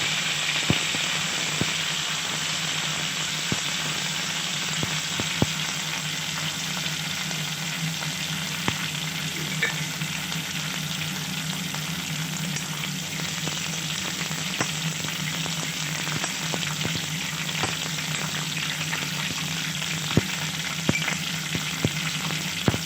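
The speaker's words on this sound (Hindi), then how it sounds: "फली निकालने के बाद तेल में कड़ी पत्ते डालना।" Curry leaves frying in hot oil, a steady close sizzle with sharp sporadic pops and crackles over a low hum, no talk.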